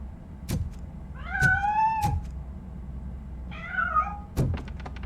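A cat in the video game Robocop Rogue City gives two clear, drawn-out meows, close and fairly loud, between sharp thuds and knocks, with no one speaking.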